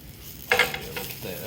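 A quesadilla sizzles in butter in a frying pan, with a sudden burst of crackling as it is flipped, then a softer ongoing fry close by.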